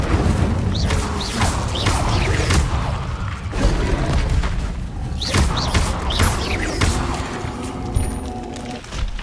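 Fire spell cast in Hogwarts Legacy amid combat, a run of loud booming blasts and crashing impacts repeating every second or two over a dense, continuous roar.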